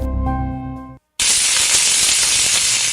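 A loud, steady sizzling hiss, like skin cooking, starts abruptly after a brief silence, continuing without a break, like something searing hot.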